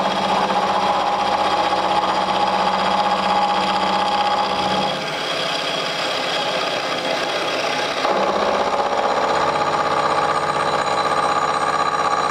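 A metal lathe cuts a wire brush mandrel with a continuous, close, grinding hiss and a steady machine hum. The tone shifts partway through, then shifts again as the cut changes, with no voices.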